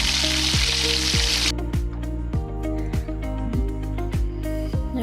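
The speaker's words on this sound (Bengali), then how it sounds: "পেঁয়াজ ভেজে নেব" Onions frying in a pan give a bright, hissing sizzle that dominates briefly, then carries on more quietly beneath a steady, rhythmic musical backing.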